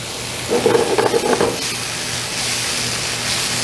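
Thinly sliced onions sizzle in sausage grease in a pan and are stirred, with a brief burst of scraping and tossing near the start before the frying settles into a steady, close hiss.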